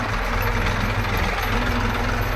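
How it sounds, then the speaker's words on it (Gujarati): A heavy tractor engine idles steadily nearby, a rough, continuous low rumble with a faint knocking rhythm and no pauses. "અત્યારે હું લઈ જાઉં ટ્રેક્ટરને વાળીએ"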